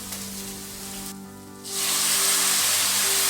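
Chopped tomatoes hit onions frying in a pan for a Tamil country chicken curry, and a loud, steady hiss of sizzling swells up and holds close by.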